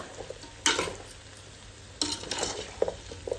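Goat head meat curry is stirred with chili powder in a sizzling pan, a spoon scraping in a few distinct bursts over a soft, steady frying hiss.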